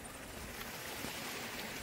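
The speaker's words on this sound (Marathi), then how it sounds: "तुम्हाला पाण्याचा आवाज येत असेल" Water flowing through a green hillside village in the Konkan near Lanja, Ratnagiri, heard as a steady, broad rushing wash with no breaks, moderately distant, with no voices over it.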